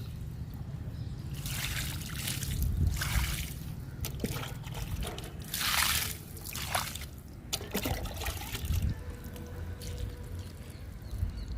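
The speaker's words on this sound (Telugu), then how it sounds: "బీరపాదుకి వాటర్ ఇచ్చేద్దాము." Water trickles and splashes in short bursts, like a stream poured onto the soil of a ridge gourd plant, with brief pauses between pours.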